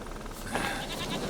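A goat in The Witcher 3 video game gives a single short, quiet bleat, a brief wavering call against faint background ambience with no talking.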